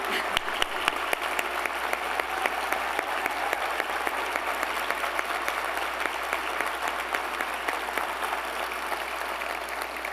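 An audience at a State of the City address applauds, with a dense and steady wash of clapping from a large crowd lasting throughout, moderately loud, with no speech over it.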